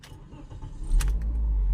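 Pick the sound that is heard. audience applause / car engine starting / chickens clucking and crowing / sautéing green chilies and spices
car engine starting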